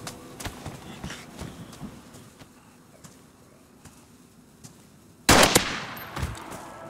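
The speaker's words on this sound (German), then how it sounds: "Die Schüsse locken halt immer andere Zombies an." Gunfire in a zombie survival video game: a rapid string of sharp shots over several seconds, then a louder, denser burst near the end, with no talk.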